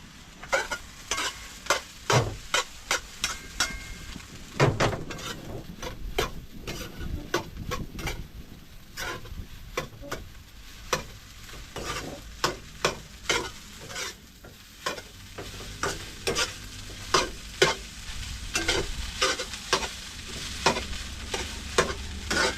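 Fried rice sizzling steadily in a pan while a spatula scrapes and stirs it in sharp, repeated strokes, close and loud throughout.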